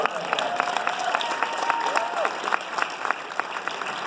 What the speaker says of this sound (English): You know, a round of applause.